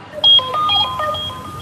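A cellphone rings with a bright electronic melody of clean, repeating tones, loud and close, over a low background hum with no talking.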